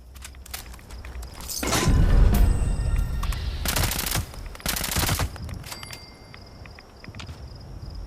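Video game weapon fire comes in rapid automatic bursts, loud and close, with several separate volleys and sharp single shots set against quieter movement sounds and no talking.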